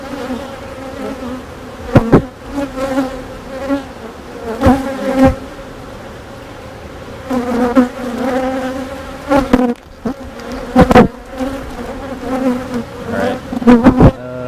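Honey bees buzz steadily around an open hive, a continuous near drone rising and falling, cut by several sharp knocks or clicks from handling the frames.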